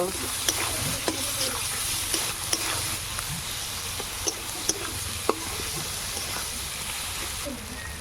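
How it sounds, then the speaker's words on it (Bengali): Tomato masala with salt and turmeric for masoor dal is stir-fried in a pan, a continuous sizzle broken by regular spatula taps and scrapes at a steady rhythm. "স্বাদ মতো লবণ দিয়ে দেবো হলুদ গুঁড়ো মশলাটা ভালোভাবে কষিয়ে নেব"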